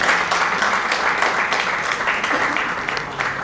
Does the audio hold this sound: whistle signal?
no